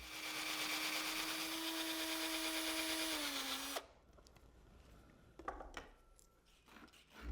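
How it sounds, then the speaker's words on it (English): A power drill whines steadily for a few seconds boring a hole through a wooden dowel, pitch dipping slightly before stopping, followed by scattered soft knocks and handling sounds. "I'm going to make some simple handles by drilling a hole through a dowel."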